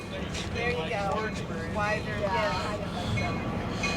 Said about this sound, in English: here comes the train coming down the train tracks